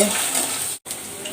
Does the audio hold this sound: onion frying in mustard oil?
yes